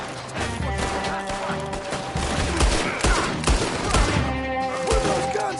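Gunfire in Red Dead Redemption 2 on PS5: rapid volleys of shots crack and boom in dense overlapping bursts, loud and close, with echoing impacts throughout.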